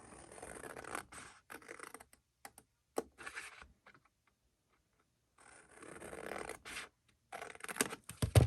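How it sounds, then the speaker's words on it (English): Scissors snip paper for a craft game in quick bursts of close, crisp cutting and scratching, with a silent pause in the middle before the cutting resumes. "So you're just going to cut just a teeny weeny little bit out of each of these, and you're going to cut straight up."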